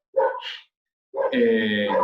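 Two sharp dog barks ring out close by, the second longer and louder, separated by a brief silence.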